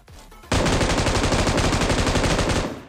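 Sustained automatic fire from a Groza rifle in PUBG Mobile, a rapid unbroken burst of shots that starts abruptly and runs loud and close for about two seconds.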